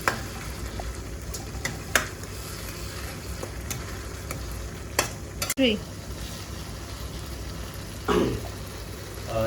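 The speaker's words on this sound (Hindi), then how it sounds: "और इसको थोड़ा सा मिक्स कर लेंगे, थोड़ा सा पका लेंगे।" Chicken karahi sizzling in a pan while being stirred and mixed with a utensil, with steady frying hiss, occasional scrapes and clinks against the pan, and no speech.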